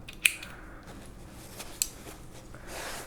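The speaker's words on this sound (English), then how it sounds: "Chain 1 and cut your yarn." Scissors snip through crochet yarn with one sharp cut near the start and a second fainter snip later, close and quiet in a still room.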